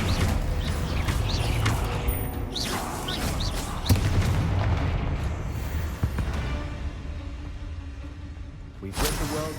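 An Incendio fire spell is cast in Hogwarts Legacy, a whooshing fiery burst amid continuous rumbling game sound, with a few sharper crackles and impacts scattered through the clip.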